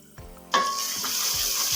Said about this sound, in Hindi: बस 1 से 2 मिनट और भूनेंगे।